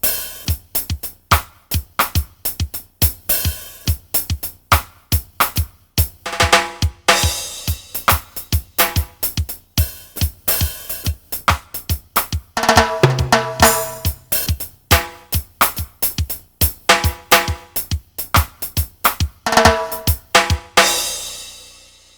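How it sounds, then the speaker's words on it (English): Reggae snare sound played on a Roland TD7 electronic drum kit, a long run of sharp, rapid hits with bright attacks, quick rolls and accents, loud and close, no voices. "I have assigned a reggae snare, an authentic reggae snare"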